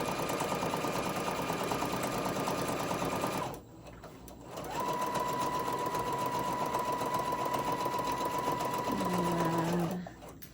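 A sewing machine stitches a Halloween treat tote bag in a steady, fast whirring run, stops briefly, then runs again and slows to a halt, close and alone.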